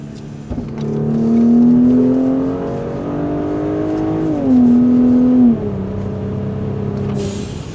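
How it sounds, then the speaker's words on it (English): A turbo V6 Mercedes GLE with an M276 engine and megaphone exhaust revs up and holds, dips, then revs again with a deep, throaty exhaust drone, close and loud, settling back to idle. "I think it's a pretty dang good sound for a V6."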